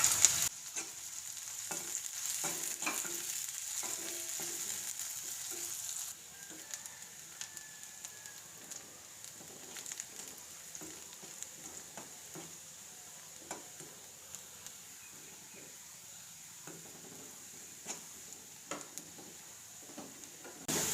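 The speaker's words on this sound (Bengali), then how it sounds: "পেঁয়াজগুলো কিছুক্ষণ ভাজা হয়ে গেলে দিয়ে দিচ্ছি কিছু থেতো করে রাখা রসুন।" Chopped onion and crushed garlic fry in a pan with a steady sizzle, broken by scattered clicks and scrapes of stirring, moderately loud and close with no talking.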